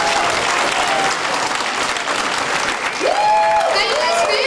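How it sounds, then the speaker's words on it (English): Comedy-night crowd at a Polish American club applauds loudly for a comedian, with dense clapping and cheers, while a brief whistle or voice rises toward the end. "A big hand of applause for Tracy Locke."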